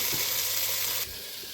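Fish head curry with mashed tomato being stirred in a sizzling pan, a loud close hiss of frying that drops in level about a second in, with no talk.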